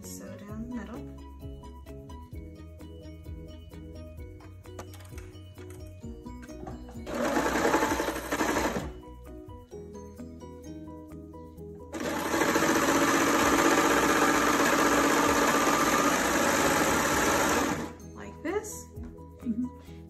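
Sewing machine stitching two fabric pieces for kids' shorts together down the middle, running in a short burst and then a longer steady run, with a person talking during the quieter stretches.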